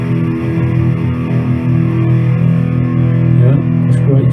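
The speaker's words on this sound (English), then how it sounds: "Yeah, that's great distortion." An electric guitar plays through heavy distortion from an overdriven amp, a sustained, dense, buzzing tone that stays loud and steady throughout, with no voices.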